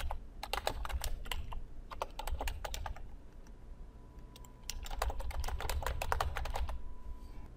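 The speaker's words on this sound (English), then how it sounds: "and you can type in your text." Steady bursts of typing on a computer keyboard while entering text, with rapid clustered keystrokes, a pause in the middle, then another run of clicks, close and clear over a low background hum.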